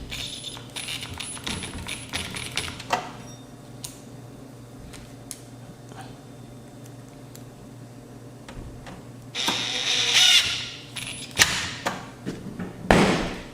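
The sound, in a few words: screws being replaced in a Sony STR-K7000 AV receiver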